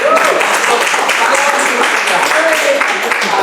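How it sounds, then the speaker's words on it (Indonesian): Applause from a group of teacher candidates at a school gathering at SMK 1 Sawan: dense, steady clapping that fills the whole stretch, with voices mixed in. "Tepuk tangan dulu ya semua."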